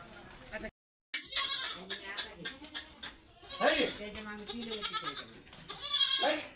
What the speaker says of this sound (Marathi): चला सुटल्या आता बकऱ्या निघले